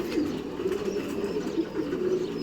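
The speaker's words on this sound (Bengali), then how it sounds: "তো এই পায়রাগুলো উড়ে নেমেছে দেখুন হাঁপাচ্ছে এখনও" Several pigeons that have just flown in and landed coo in steady, overlapping rolling calls, close and fairly loud, with a faint hiss of surroundings and no talk.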